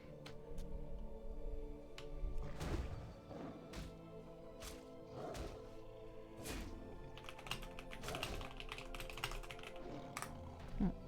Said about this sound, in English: I'm just typing it in chat because they're probably looking at an ad.